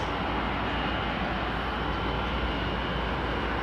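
An American Airlines 787 landing at London Heathrow, a loud continuous roar of jet engines and rushing air with broadband rumble held steady throughout, with no voices.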